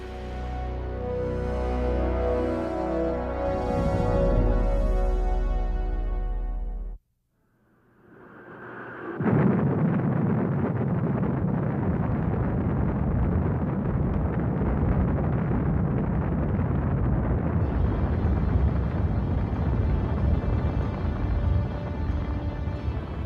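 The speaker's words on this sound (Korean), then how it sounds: "아침 7시 케네디 우주센터 주변은 거대한 충격파로 뒤흔들리다가 120데시벨이 넘는 고막을 찢을 듯한 굉음이 울렸다" A Saturn V rocket, the first all-up three-stage test launch at Kennedy Space Center in November 1967, roars with a dense, loud, continuous rumble that follows a brief lull, with louder tonal sound before the gap.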